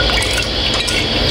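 Water pours continuously into a container in a loud, close, gushing fill lasting just over a second, with no voices.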